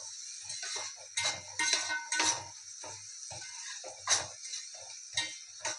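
A metal spoon stirs a tomato, chili and turmeric mixture in a pan, giving quiet, irregular scraping clinks and taps, close and sparse, with no talk.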